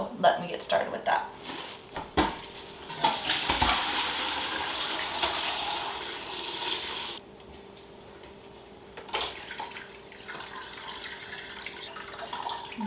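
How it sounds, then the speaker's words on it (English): Homemade chicken bone broth with bones and vegetables is poured through a strainer, giving a steady liquid splashing and trickling under a talking voice, then a lighter dribble toward the end. "strain this into here so that I can get all the stuff out, the bones, the vegetables out of here"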